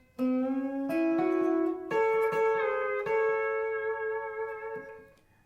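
Pedal steel guitar playing the second phrase of a solo, with a knee lever engaged. A low note bends upward, then sustained harmonized chords ring out clearly and alone before fading.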